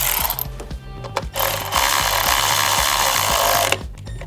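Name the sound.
electric ratchet tightening a coil pack bolt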